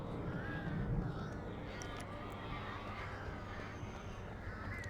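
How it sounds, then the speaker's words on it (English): Crows cawing in the game Alan Wake, several harsh calls scattered over a steady dark ambient background, moderately distant and fairly faint. "Sounds like more birds."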